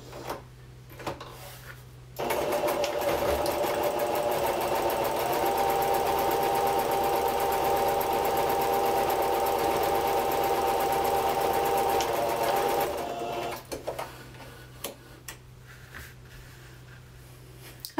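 A sewing machine stitches French quilt braid pieces in one steady, continuous run of about ten seconds, loud and close, with quiet handling before and after and no talking.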